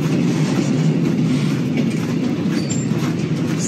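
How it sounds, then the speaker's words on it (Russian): A freight train passes close by on a line in Germany with a steady, loud rumble and clatter of wagons, and a brief faint wheel squeal near the end. "Поэтому тут постоянный поток грузовых поездов."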